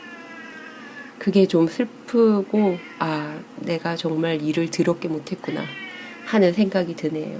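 A cat meows loudly and insistently in a series of drawn-out, wavering cries, close by, interleaved with a person speaking indoors.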